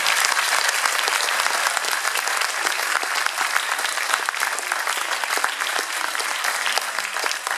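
An audience at a school concert band performance applauds the junior wind band, a dense sustained wash of clapping that stays loud and even from start to finish.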